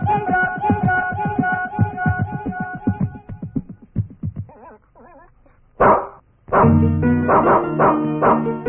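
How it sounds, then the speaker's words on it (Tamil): A street dog barks in a rapid series of sharp, close yaps, pauses with a few whimpering yips, then bursts into loud, insistent barking again. "ஒரு தெருநாய் வந்து ரொம்ப தொல்லை பண்ணுது."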